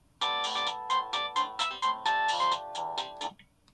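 Polyphonic 2000s mobile phone ringtone playing a bright, fast melody of short chiming notes in a quick rhythmic run, clear and close, ending after about three seconds.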